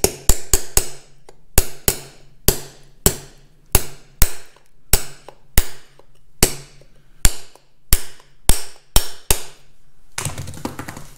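A hammer strikes metal to flatten back a lock tab on the pulley of a Caterpillar D2 crawler tractor, about twenty sharp, ringing blows in an uneven rhythm, close and loud, followed by a brief scraping rustle.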